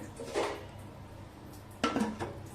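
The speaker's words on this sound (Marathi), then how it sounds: "कुकरचं झाकण लावूया" A pressure cooker lid is set on with two short metallic clanks, one early and one near the end, quiet and close in an otherwise calm kitchen.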